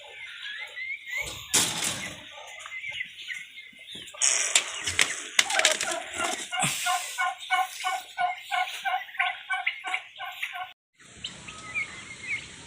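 Domestic turkeys kept near a pen in warm sun gobble repeatedly in rapid rattling bursts, loud and close, with overlapping calls and a brief gap near the end.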